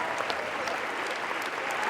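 Audience applause in the Lumière hall at the Cannes Film Festival, for director Arnaud Desplechin; dense, steady clapping from a large crowd, continuous and even throughout.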